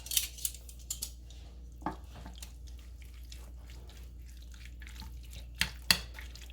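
Beef pieces being tossed with soy sauce and cornstarch in a bowl, with wet squelching, soft drips and a few sharp clinks of a utensil against the dish, close and fairly quiet, with no speech.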